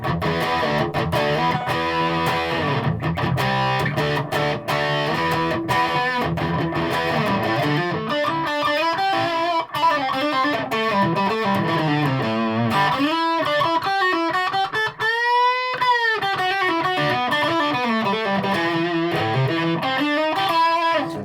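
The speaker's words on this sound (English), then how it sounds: "Try the dirty channel on the amp instead. No reverb now." Fazley Outlaw Maverick electric guitar played through an amp's dirty channel with no reverb, a loud continuous run of distorted chords and sustained bent notes filling the whole stretch.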